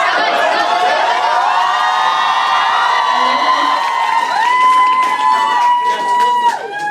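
A crowd outside a school yells and cheers in support, a loud and sustained wall of shouting voices with a few higher whoops standing out toward the end.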